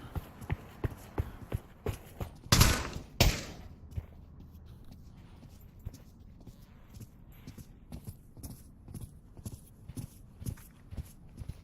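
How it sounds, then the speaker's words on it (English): Footsteps in the VR shooter Pavlov VR come as a regular run of close, crisp steps, broken by a pair of loud thuds. The steps then carry on more softly and unevenly, as if shifting around the listener. "admiring the footsteps that I could clearly hear exactly where they were coming from"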